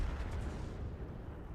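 Artillery shells landing in a World of Tanks battle on a Russian T-43 tier VII tank, giving a dense low rumble of booms and distant blasts that run throughout at moderate level.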